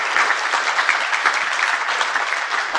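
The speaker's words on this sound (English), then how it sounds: "Can I get a round of applause for Iron Geek?" Audience applause for Iron Geek at a hacker convention, steady dense clapping throughout at close range with no voices over it.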